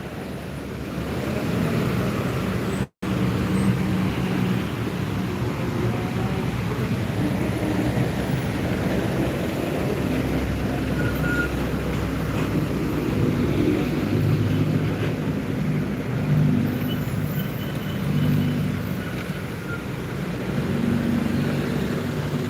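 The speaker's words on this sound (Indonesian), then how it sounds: "Macet banget Jalan Soekarno-Hatta ya." Traffic on Jalan Soekarno-Hatta during a heavy jam: a continuous broad rumble of engines and road noise with scattered horn-like tones, steady and loud throughout, with no talking.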